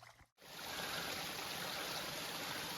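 A mountain stream flows at a water source on a Mt. Mitchell trail, a steady, soft rushing and trickling that runs on its own without talk.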